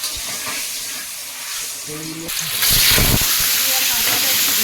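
Dried chillies dropped into hot oil, a quiet hiss that jumps into a louder, steady sizzle partway through, with faint clatter from the pan.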